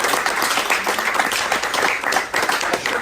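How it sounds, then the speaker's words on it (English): Guests at a youth rugby team's end-of-season barbecue applaud the winning side, a dense, continuous burst of clapping, fairly loud and steady throughout. "So a round of applause."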